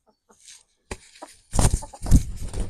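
Hens in a small backyard coop flock cluck. Faint, scattered clucks at first give way to louder, closer bursts of clucking.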